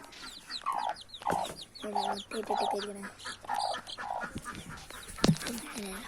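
A chicken clucks repeatedly in short, evenly paced bursts, fairly close and clear, with a sharper squawk near the end.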